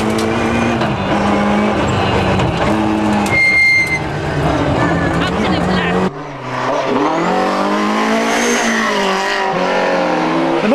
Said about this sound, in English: the M3 still looks and sounds amazing